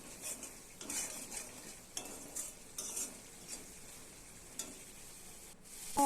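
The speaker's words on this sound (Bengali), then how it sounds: "এবার ভালো করে কষাতে কষাতে একদম মশলা থেকে তেল ছেড়ে দিবে" Spice paste stir-fried in oil gives soft, close scraping strokes at a loose rhythm over a faint low sizzle, with a few clinks of a utensil against the pan.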